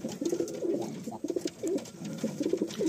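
Madrasi pigeons, a male and a female, coo continuously up close in soft, overlapping throaty phrases with no pauses.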